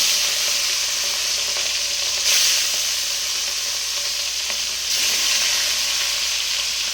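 Pieces of fish coated in salt and turmeric sizzle steadily in hot oil in a kadai, a constant close frying hiss that briefly swells louder as more pieces go in.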